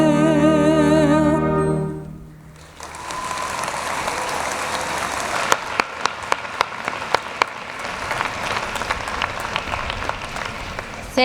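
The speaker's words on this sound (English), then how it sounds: "Let's give them a round of applause." A commencement audience breaks into sustained applause for the musicians after the alma mater ends, the music fading out in the opening seconds and a dense, loud wash of clapping filling the hall for the rest, with a few sharper claps standing out.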